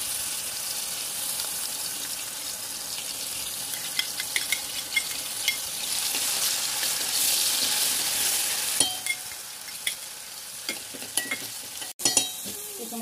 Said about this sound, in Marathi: गरम झाल्यानंतर त्याच्यामध्ये आपण आलं, लसूण आणि मिरचीची पेस्ट घालणार आहोत।